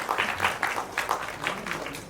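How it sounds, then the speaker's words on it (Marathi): A crowd at a Marathi film trailer launch claps in a quick, fairly even burst of hand claps at moderate distance, with a faint voice underneath. "एकदा जोरदार टाळ्या त्यांच्यासाठी"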